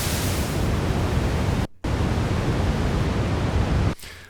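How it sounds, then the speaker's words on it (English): Noise generator on a Korg ARP 2600M synthesizer producing a continuous hiss that shifts from pink noise toward darker low-frequency noise, loud and alone, briefly cutting out once and stopping near the end. "And we can go all the way from pink down into just low frequency noise."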